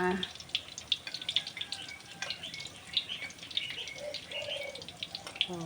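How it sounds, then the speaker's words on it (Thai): Birds chirp and call repeatedly in the background, with occasional harsher crow-like calls and faint dripping water, fairly quiet and outdoors. "เสียงนกนะคะเสียงนกเสียงกา"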